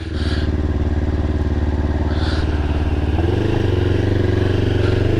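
A Kawasaki Ninja motorcycle engine with an aftermarket exhaust idles with a deep, throaty rumble, then revs up slightly and holds a louder, steady growl nearby.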